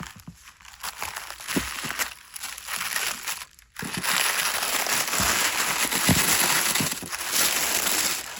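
Packaging with embossed stickers being torn open, close crinkling and crumpling of paper or plastic in bursts, growing louder and denser after a brief pause.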